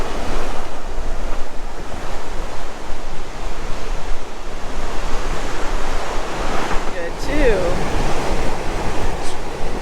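Ocean surf washes steadily along a California shore, a loud continuous roar of breaking waves mixed with wind buffeting the microphone, with no voices.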